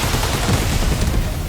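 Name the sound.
weapons fire, impacts and explosion in 13 Sentinels: Aegis Rim video game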